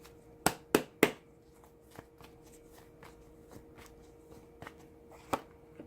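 Tarot cards shuffled and drawn for a reading: a few sharp riffling snaps up front, then scattered soft card slides and taps, close and fairly quiet, with another crisp snap near the end.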